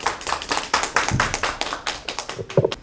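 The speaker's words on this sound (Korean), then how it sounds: "뜨거운 손뼉 부탁드립니다." Audience applause welcoming novelist Lee Si-baek to a humanities lecture, a small crowd clapping in a moderately loud stream of sharp, uneven claps that continues for about three seconds without talk.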